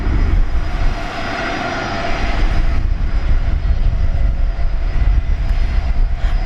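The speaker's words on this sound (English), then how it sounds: "Let's have a look at beautiful Singapore Princess A350-900 going back home to Changi Airport, Singapore." Singapore Airlines Airbus A350-900 jet engines roaring steadily at an airport, a loud, continuous broadband rumble and whine from nearby throughout.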